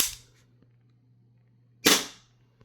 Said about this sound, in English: Now I'll fire it